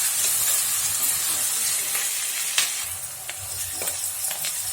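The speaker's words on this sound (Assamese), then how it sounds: "ৰঙচুৱাকৈ পিঁয়াজখিনি ভাজি লৈছোঁ" Sliced onions fry in a pan for chicken curry with a constant, busy sizzle, punctuated by sharp pops and stirring scrapes, close by and alone.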